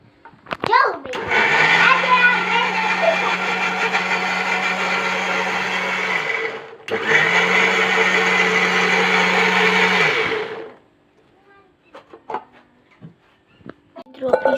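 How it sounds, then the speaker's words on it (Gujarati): A kitchen grinder blends milk with sapota (chikoo) for homemade ice cream, a loud steady electric whir that runs about five seconds, stops briefly, restarts for four more and then cuts off, with someone talking faintly around it. "આ ગ્રાઇન્ડરમાં પીસવાનું છે, દૂધ ને ચીકુ મિક્સ કરવાનું છે"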